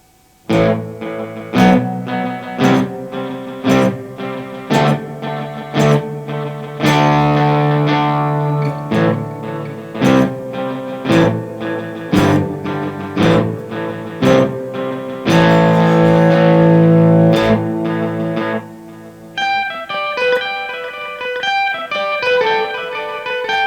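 Electric guitar played through a Boss DD-500 delay pedal on preset 19B, a rock shuffle pattern, with plucked notes and chords repeating in a swung, lilting rhythm of echoes, some sustained strummed passages, and dense trailing repeats.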